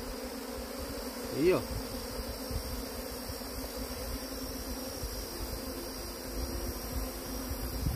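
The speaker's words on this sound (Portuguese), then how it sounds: "Muita abelha aqui embaixo" Bees buzzing around a beehive being tended, a dense steady drone with one bee whining close past early on, under a brief spoken remark.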